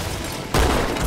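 In Halo 2, a frag grenade bursts with a sudden loud boom about halfway through, cutting in over low background game noise and sustaining a rough rumbling roar until the end.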